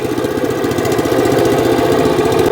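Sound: WEIMA WM7BL-400 dumper engine running as it drives off

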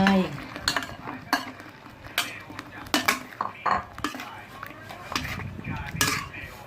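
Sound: stingray being added to a wok and stir-fried

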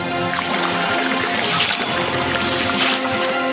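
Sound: water spraying in a cartoon

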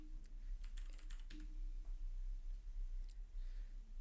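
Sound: typing a command on a computer keyboard

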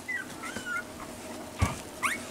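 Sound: week-old puppies whimpering

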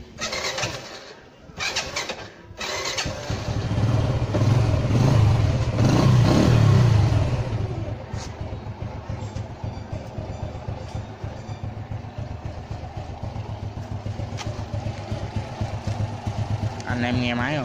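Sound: Honda Wave 110 motorcycle engine starting, idling

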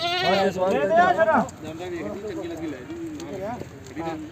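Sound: goat bleating at a goat market

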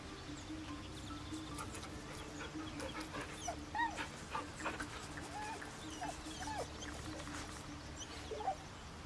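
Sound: dog being petted in video game Baldur's Gate 3

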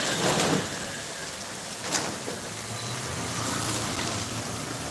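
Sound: heavy rain

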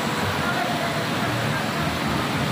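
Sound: heavy rain and water flowing on road in Karachi

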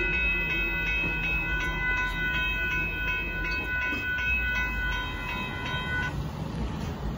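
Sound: Amtrak Texas Eagle passenger train passing

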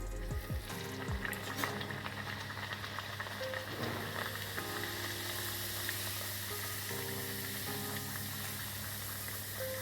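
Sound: puris frying in hot oil (moong dal masala puri)

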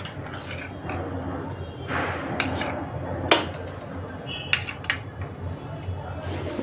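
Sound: tossing poha chivda in a large metal plate

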